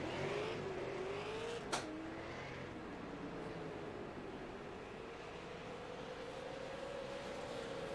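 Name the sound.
Super Late Model race cars passing by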